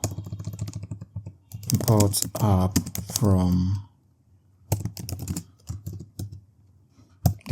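Clicks from a computer keyboard being typed on while someone sets up a coding project, short bursts of taps scattered between spoken phrases and continuing alone in the quiet afterward.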